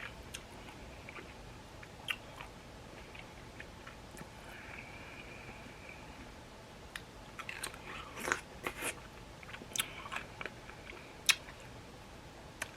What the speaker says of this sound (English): This will make you pucker and smack.